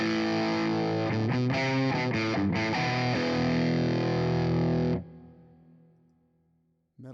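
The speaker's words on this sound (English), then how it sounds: "This is regular distortion" Electric guitar played through a regular distortion preset in Bias FX rings out in loud, saturated chords with a few choppy rhythmic strums, then cuts off and decays into a fading tail.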